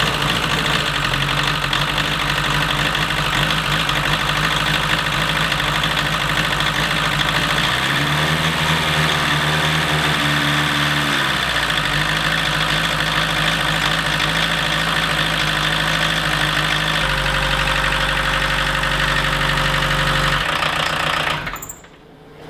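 A Volkswagen MK1 diesel engine fires up and settles into a loud, clattering idle that shifts in speed partway through before cutting off at the end, heard close up and without talk.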